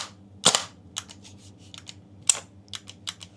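An AKX toy gun firing, with two sharp loud snaps followed by quicker, lighter clicks of the mechanism cycling; no talking.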